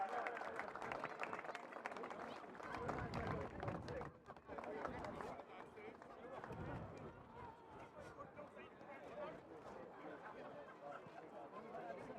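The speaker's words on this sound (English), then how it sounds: "one more round of applause for the 1994 Louth Senior Football Championship winners" A crowd at a Gaelic football championship final applauds the 1994 Louth Senior Football Championship winners, with bursts of clapping and cheering heard at a distance, mixed with crowd chatter and rising and falling in waves.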